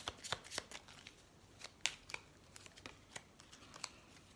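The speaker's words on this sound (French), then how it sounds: "Alors, on prend une dernière carte." Tarot cards shuffled and drawn from the deck for a Scorpio monthly reading, heard as a quiet run of crisp papery flicks and snaps, irregular and close, with no talking.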